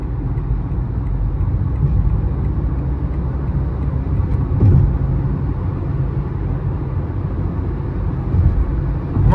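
A 2023 Citroën C3 Live Pack with a 1.0 gasoline engine cruising on a highway, heard from inside as a steady low engine drone and tire rumble with no pauses.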